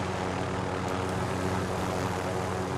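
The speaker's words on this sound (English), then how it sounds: "Oh, helicopter, hold up. He's landing on me." Aircraft engine roar from a helicopter coming in to land close by during a Call of Duty: Modern Warfare Warzone match, a steady dense drone that fills the whole stretch with no voices.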